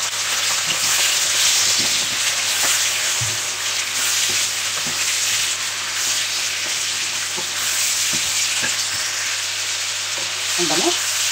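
Pork liver hits a pan of sautéing ginger and sizzles loudly and steadily up close, with a few scraping stirs and clinks scattered through the frying.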